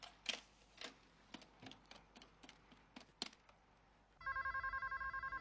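A telephone rings with a rapid, repeated electronic trill after several seconds of quiet clicks and taps, fairly close and clear.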